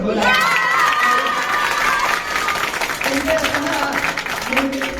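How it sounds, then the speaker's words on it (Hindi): A school crowd at a 26 January event applauds and cheers for the teachers, loud mixed clapping and children's shouts, with voices calling out over it. "इनके लिए तो ताली हो जाए"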